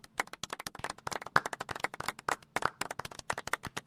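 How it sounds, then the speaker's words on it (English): A small group claps steadily for a few seconds, sharp overlapping hand claps in a loose, brisk rhythm, close by with no talking. "Golf clap."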